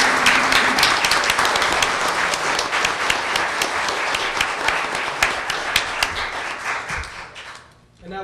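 Teachers of the Year are applauded at a Cartersville city council meeting with several seconds of sustained, dense clapping from the room that tapers off near the end.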